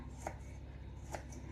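A kitchen knife chops garlic cloves on a board, two crisp knocks spaced about a second apart, close and fairly quiet with a steady low room hum beneath.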